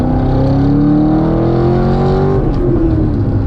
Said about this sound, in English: Just listen to those downshifts